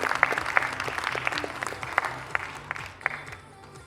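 Applause for the men's fitness competitors at an Icelandic bodybuilding cup event, moderate clapping with distinct individual sharp claps standing out, fading toward the end.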